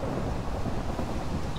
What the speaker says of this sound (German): neben mir ist gerade der Blitz eingeschlagen